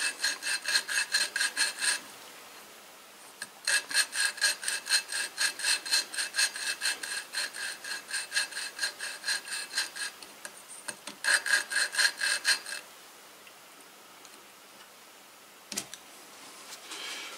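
Rhythmic hand-driven grinding rasp of lapping a moped engine valve, in repeated bursts, with brief pauses between strokes, close and steady, no voices.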